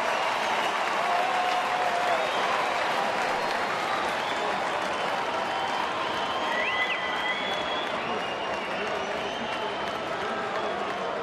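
A sellout crowd of more than 41,000 at a night baseball game makes a steady roar of cheering and clapping that fills the stadium, with whistles cutting through and a commentator's voice faint beneath it.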